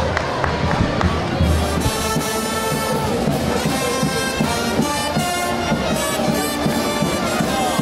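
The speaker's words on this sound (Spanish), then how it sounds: "Bueno, un aplauso." Crowd at the Gáldar fiesta with the Caballitos de Fuego, loud sustained applause and cheering mixed with music and rhythmic beats, a dense festive din throughout.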